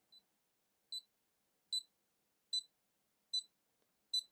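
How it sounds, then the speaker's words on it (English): Six short, high electronic beeps from a charger-style item tracker repeat at a steady pace of under a second apart, clean and isolated against silence. "So it's making a beeping sound."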